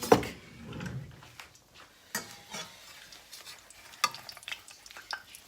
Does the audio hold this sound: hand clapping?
no